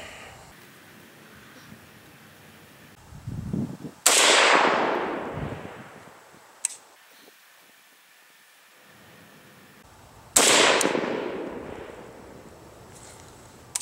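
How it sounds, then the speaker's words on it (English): AK-47 rifle chambered in 7.62x39 fires two loud, sharp shots at a target 25 meters downrange, each with a long echoing decay, spaced about six seconds apart in an otherwise quiet outdoor range. "I'm going to shoot two shots. We got the target down range of 25 meters"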